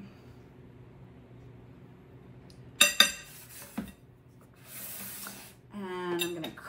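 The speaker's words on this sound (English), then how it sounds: "I'm just gonna mix them together with a fork" A fork mixing ingredients in a bowl with a pinch of salt for parmesan-fried zucchini. It sounds like quiet clinks and scrapes of metal on the dish, with a few sharper taps and some brisk rubbing stirs near the mic.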